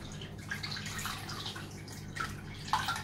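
Water being poured by hand into a guppy aquarium during a water change, a steady moderate trickle and splash running throughout with a few brighter drips near the end.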